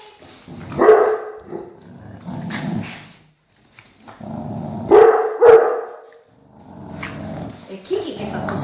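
A dog playing with puppies gives a few loud, close barks and growls in bursts, with quieter whines and rustling between them.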